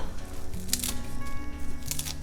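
Herbs being snipped and torn up close, with a couple of crisp crackling bursts over a faint steady background hum.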